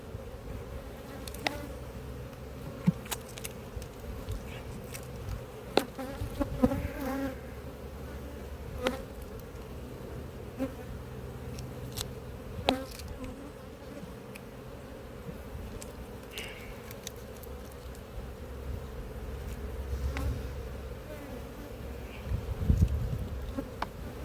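Honeybees hum around an open apiary hive whose workers are carrying pollen, a steady low drone from many insects with occasional louder buzzes as single bees fly close past, and no talking.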